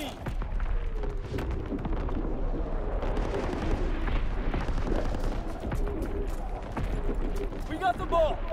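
Gunfire and explosions in Call of Duty WW2 on the Gridiron mode rumble and crack continuously in a dense, loud battle mix, while players talk over the action.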